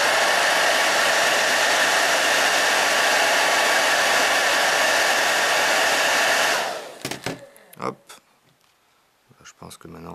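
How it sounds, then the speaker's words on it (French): A hair dryer blasts hot air onto a sealed deck of playing cards to soften the box glue, a loud continuous roar that cuts off after about seven seconds, followed by small handling clicks and rustles. "On remet un coup de sèche-cheveux."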